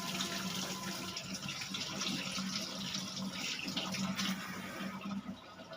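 Eggs are washed under a running kitchen tap: a soft, continuous splash of water that shifts slightly as the flow hits the shells and the sink, fairly quiet and with no one talking.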